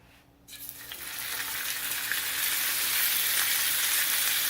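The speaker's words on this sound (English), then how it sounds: "I'm going to cook them 1 minute on each side" Steaks laid into a hot pan burst into loud, steady sizzling that starts abruptly after a brief quiet moment and holds a continuous hiss close up, with no voices.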